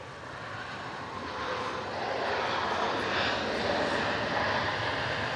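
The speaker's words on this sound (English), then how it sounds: "737 coming in on 272 from Brisbane." A Boeing 737 arriving from Brisbane roars on final approach to landing at Melbourne Airport, a loud, steady broadband jet rumble that swells over the first two seconds and holds close and strong, with no voices.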